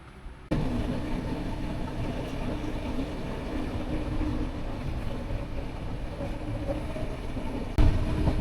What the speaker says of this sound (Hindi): और इधर ट्रेन आ गई अपने टाइम से